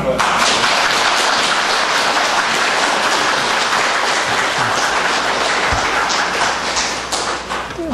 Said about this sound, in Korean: 박수를